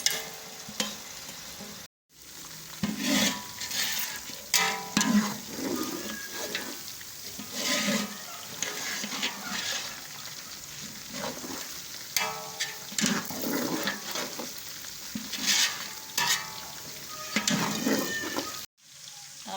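Mutton and onions fry in a pot for yakhni pulao with a steady, moderate sizzle, broken by stirring scrapes and bursts of crackling that rise and fall throughout.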